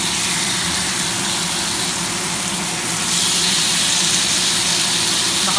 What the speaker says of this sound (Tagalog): So, prito na natin ang beef.